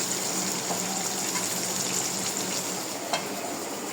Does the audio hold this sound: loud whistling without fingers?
no